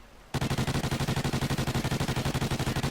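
A sustained automatic burst in Call of Duty: Ghosts starts abruptly with the trigger held, each shot rapid and evenly spaced, loud and unbroken for several seconds.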